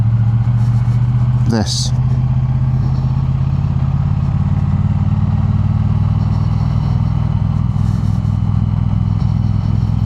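A motorcycle engine drones at a steady, loud low pitch while riding at night, with constant road and wind noise and a brief sharp sweep near the start; a voice speaks over it.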